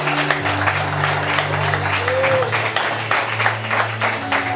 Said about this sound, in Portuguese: Palmas para o Senhor.